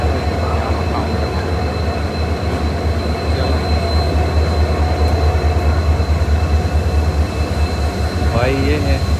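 A train at an Indian railway station rumbles steadily and loudly throughout, with a brief squeal of wheels near the end and faint voices in the background.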